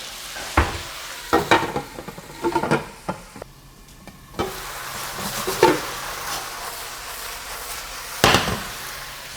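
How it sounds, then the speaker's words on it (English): Broccoli is tossed into a hot pan and fries, giving a steady close sizzle broken by sharp clattering knocks and scraping stirs, with a short quieter pause midway. "I'm gonna go ahead and add the broccoli now"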